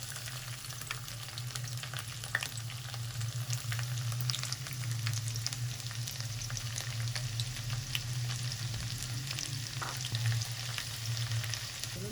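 Chopped garlic fries in a pan for a potato and green onion sabzi, giving a steady, close sizzle and crackle that runs evenly through the whole stretch with no one talking.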